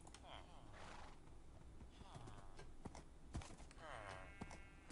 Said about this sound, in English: let's grab one of these horses and take a ride